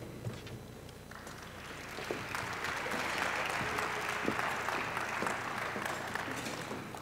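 Audience applause at the ChamberWest business gala, a broad steady wash of clapping that swells after the first couple of seconds and holds loud and dense, with no talk over it.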